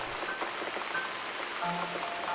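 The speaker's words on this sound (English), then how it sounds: "Looks like we've got the rain back." Steady rain in the video game The Cat Lady, a continuous hiss of falling drops with faint tonal game sounds mixed in.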